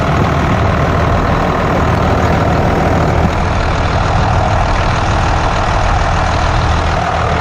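A 12-valve Cummins diesel engine, running after a head gasket repair with BlueDevil sealer, idles close and loud with a steady, unbroken low rumble throughout.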